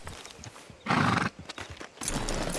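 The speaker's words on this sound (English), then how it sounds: "is that my temporary horse?" A horse in the video game Red Dead Redemption 2 gives a loud, close whinny, with clip-clopping hooves before and after and a faint voice in the background.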